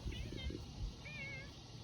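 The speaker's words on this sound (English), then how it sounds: "Yeah, baby kitten." A kitten meows a few times up close in a garden by kale and sweet potato beds, soft high cries over faint background noise.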